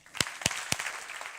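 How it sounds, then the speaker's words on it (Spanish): Scattered applause for award-winning entrepreneurs at a security conference talk. A few sharp, distinct claps stand out at a steady pace over a faint background patter of hands. "un fuerte aplauso para estos emprendedores que tienen estos premios"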